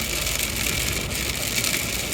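Rain falls steadily as a dense, even hiss of many drops on a surface, unbroken and fairly loud throughout, with no voices.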